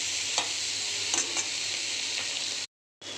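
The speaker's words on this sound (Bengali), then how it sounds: "এবার কিছুক্ষণ কষাবো আর লবণ হলুদও দিয়ে দিয়েছি" Banana flower being stirred and fried with shrimp, salt, turmeric and spices in a pan, giving a steady close sizzle with occasional spoon scrapes, then a brief silence before the frying resumes.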